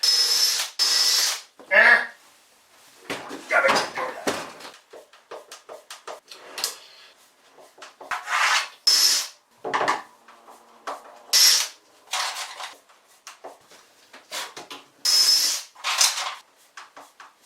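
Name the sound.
drilling with a self-centering drill bit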